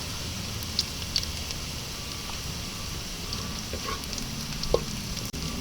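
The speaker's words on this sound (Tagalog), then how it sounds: "Tapos hihintayin po natin na medyo mag-golden brown yung ating bawang." Garlic fries in a pan toward golden brown for adobong kangkong with tofu, giving a steady, even sizzle broken by a few sharp pops and crackles.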